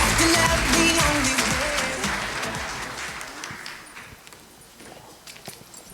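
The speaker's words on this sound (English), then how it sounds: "Let's all give him a warm round of applause." Audience applause greets a speaker walking to the stage for a plenary talk at a conference on character education, a loud dense clatter of clapping at first that thins and fades over several seconds with scattered claps at the end.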